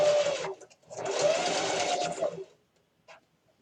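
A sewing machine stitches a fabric microwavable bowl cozy in two short bursts of rapid close whirring, the second longer, then falls quiet with a faint click.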